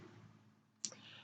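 A single sharp mouse click sounds against a quiet room hum with faint background noise, close and brief, clicking OK in branding software.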